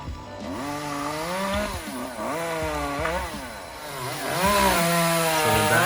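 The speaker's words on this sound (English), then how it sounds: "Last tree coming down." A chainsaw cuts down the last tree on a property, its engine whining steadily and shifting pitch as it bogs and revs through the wood, close and loud throughout.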